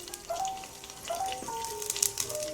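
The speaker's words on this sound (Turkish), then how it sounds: "Bir yemek kaşığı çam fıstığı atıp birazcık kavuracağız" Pine nuts sizzle in a little oil in a pan, with a soft crackle and light popping, and a few tones ring out near the microphone.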